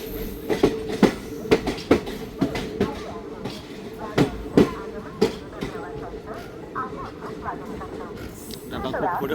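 The Tutari Express rolls into a Konkan Railway station, wheels beating out loud, uneven clickety-clack bursts over a rumbling carriage drone, with voices murmuring nearby.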